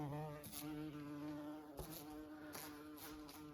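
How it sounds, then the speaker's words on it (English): A large bee buzzes steadily and close, with a few louder, sharper bursts as it bumps and flutters against a window. "There's a huge bee in the window again."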